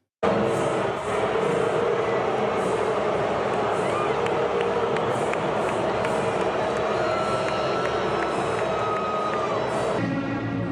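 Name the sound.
crowd booing Taylor Swift, played recording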